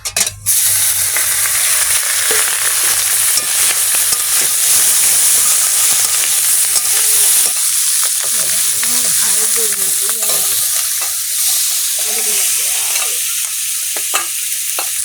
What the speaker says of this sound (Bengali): তেল গরম হয়ে গেছে, কড়াও গরম হয়ে গেছে, এরা মাছগুলো দিয়ে দেবো।